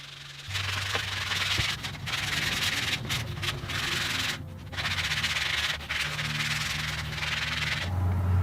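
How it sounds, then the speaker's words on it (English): Steady rubbing and sanding strokes smooth the cut edge of a leather belt, a continuous close scratchy noise broken by a few brief pauses, with no talking. "I'm not trying to sand very much at all."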